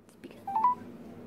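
A phone keypad gives a couple of short dialing tones, one faint and one clearer, thin electronic beeps in a quiet room.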